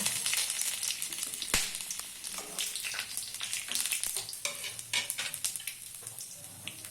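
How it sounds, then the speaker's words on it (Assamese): Whole cumin, bay leaf, dried red chilli, cardamom, clove, cinnamon and chopped ginger fry in oil for chole, with a loud continuous sizzle and frequent scraping stirs. No voice is heard. "তেজপাত শুকান জলকীয়া ইলাচি লং দালচিনি আৰু এপিনে কাটি থোৱা আদা"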